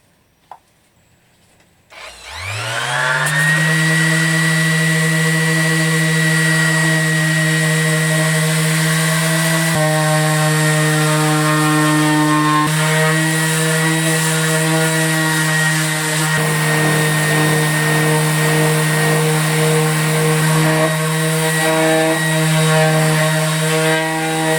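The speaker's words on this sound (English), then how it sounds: "Got myself a new sander." A new electric sander whirs to life on guitar wood, spinning up quickly after a quiet start and then holding a loud, steady motor whine with slight shifts as it works the surface.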